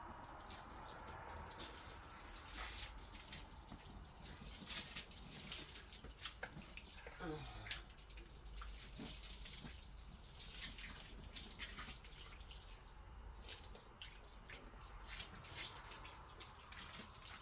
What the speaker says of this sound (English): Rinse the deck off.